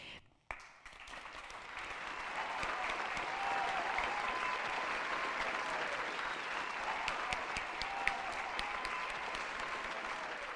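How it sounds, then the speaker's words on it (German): Warm audience applause at an award ceremony for a media prize, rising after a brief sharp onset and holding as even, sustained clapping from a full hall, with a few louder individual claps standing out. "Ein herzlicher Applaus"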